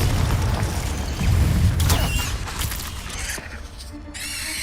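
A booming Confringo spell blast in Hogwarts Legacy, a heavy low rumble that swells and fades over a few seconds, followed by brief crackling magical debris.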